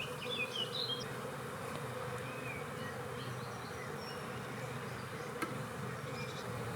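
Honeybees buzz in a dense, steady swarm while their colony is moved into a newly built wooden hive, a continuous close hum with no voices.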